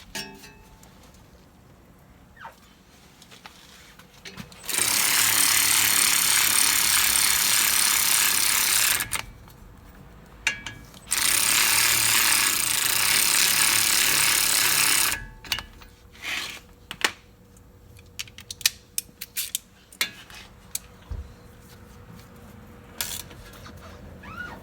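A power tool tightens the wheel hub bolts on a 2005 Ford F150 5.4 4WD, two long loud buzzing runs, followed by scattered clicks and clanks of handling parts nearby.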